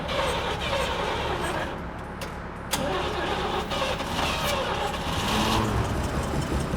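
A car engine cranks and catches, then idles and revs up in rising surges, loud and close with no voices over it.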